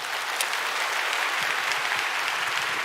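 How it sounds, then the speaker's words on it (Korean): Steady applause from a church congregation during a Sunday service fills the space, a dense wash of clapping that holds evenly throughout without voices rising above it. "우리 인사하실 때 우리 박수로 축복해 주시기 바랍니다."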